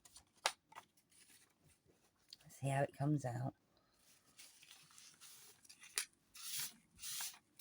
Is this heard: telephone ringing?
no